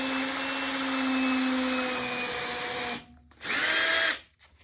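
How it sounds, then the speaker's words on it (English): A power drill spinning a 1/4-inch bit through a pilot hole in an arcade cabinet control deck, a steady high whine for about three seconds, then a brief pause and a second short burst, close and loud. "now I can just chase my pilot hole"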